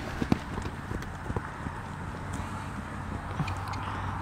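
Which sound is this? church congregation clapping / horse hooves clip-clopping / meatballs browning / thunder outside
horse hooves clip-clopping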